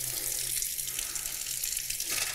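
Water pours steadily from a kitchen faucet into a plugged sink, a continuous rushing hiss that holds level throughout with no voices.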